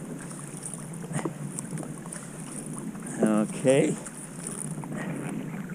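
Kayak paddle strokes in water during feathered paddling, a couple of soft splashes under wind noise, with a brief spoken word in between.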